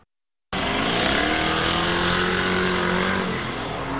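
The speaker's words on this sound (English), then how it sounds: "Accelerating fast past the house." A loud, noisy car accelerates hard past a house in Eastlake at night, its engine roaring steadily close by for several seconds with no talking.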